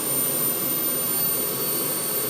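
A gas turbine engine runs on a test rig at low throttle, giving a loud, steady roar with a constant high whine that holds unchanged throughout, with no voices.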